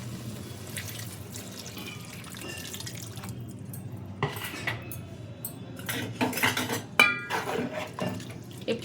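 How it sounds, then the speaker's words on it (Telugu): Strained tamarind extract is poured into a pot of softened vegetables for a homemade vegetable dalcha, with liquid splashing and clinking pot sounds that grow louder and busier in the second half; no talking. "ఇది ఇప్పుడు చింతపండు పులుసు వేసుకుందాం"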